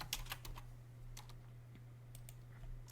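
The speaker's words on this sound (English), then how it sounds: "I'm going to type project." Fingers tap a computer keyboard in a quick cluster of faint close keystrokes, followed by a pause and a few more clicks over a low electrical hum.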